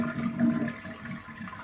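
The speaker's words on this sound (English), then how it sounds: "Now to flush, you just pull the chain up" Pull-chain toilet in an old fixer-upper house flushing, a short rushing gush of water that stays close and steady for under two seconds.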